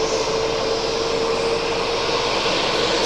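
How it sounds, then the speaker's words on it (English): An Airbus A220 airliner at Raleigh-Durham airport, giving off a constant engine roar with a steady tonal whine running through it, close and unchanging across the few seconds, no voices. "Got another A220."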